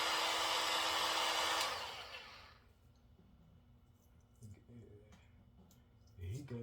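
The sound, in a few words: heat gun blowing hot air to remove a sticker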